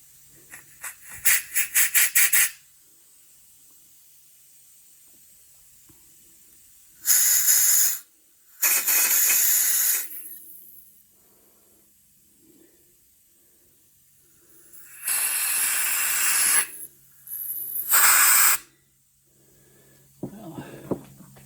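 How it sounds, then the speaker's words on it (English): Light compressed air hisses through the needle seat of a carburetor on an Allis-Chalmers RC tractor in several separate bursts, some short and some longer. The bursts are loud and close, with quiet gaps between them. "Just with really light air pressure, you can hear that seat, that needle is sealing."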